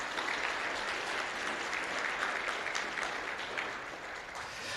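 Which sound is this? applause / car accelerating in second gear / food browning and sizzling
applause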